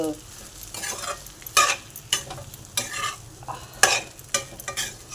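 Sabudana khichdi being stirred and sautéed in a pan on a gas stove, with repeated scraping strokes of a spoon over a soft, continuous sizzle, heard up close.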